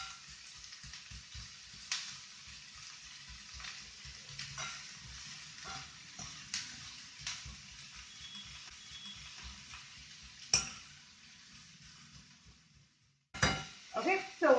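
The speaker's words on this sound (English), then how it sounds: "Now you want to break these onions apart and make sure that they're all getting sauteed nicely." Onions sautéing in a pan for an Indian-style curry, a steady close sizzle broken by occasional spoon stirs and clinks, then a brief quiet gap before the frying resumes.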